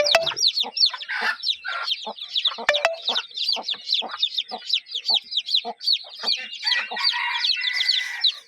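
Fourteen chicks peep steadily in rapid, high-pitched chirps, a busy overlapping chorus close by.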